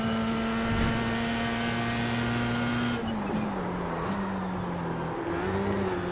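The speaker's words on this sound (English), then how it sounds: "the one thing the iR-04 lacks is a punchier engine" The iR-04 race car's engine drones at Okayama in iRacing, a steady, close buzzing note held at speed, then dipping and rising through several gear and throttle changes without any talking.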